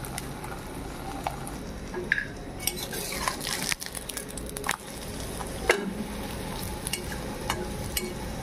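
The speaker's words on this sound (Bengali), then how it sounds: "এখন আমি এটাকে তেলে ছেড়ে দেবো।" Food sizzling in hot oil in a pan, a steady broadband crackle running throughout with intermittent clinks of utensils against cookware; no talking.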